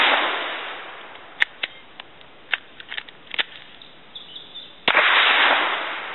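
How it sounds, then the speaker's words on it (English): A suppressed Glock 9mm fires Sellier & Bellot 115-grain supersonic rounds. Several sharp, close cracks come at irregular intervals over a hissy background, followed by a louder burst of noise near the end. "Going to shoot a few rounds of some Cellar and Bellet 115 grain. So these are definitely going to be supersonic."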